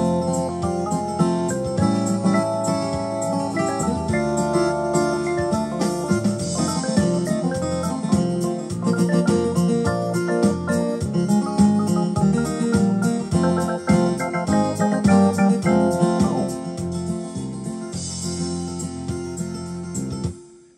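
A recorded multitrack song plays back from a Yamaha PSR-EW425 keyboard, with full accompaniment, steady drums and melody running continuously for about twenty seconds, loud and clear, with no talking.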